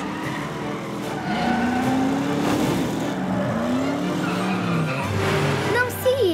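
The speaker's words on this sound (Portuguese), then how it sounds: "dirige o seu Dodge Charger rumo ao seu recorde pessoal na pista de obstáculos" A Dodge Charger tearing around an obstacle course, engine whining and shifting pitch with tire squeal and skidding, loud and near, with voices talking over it.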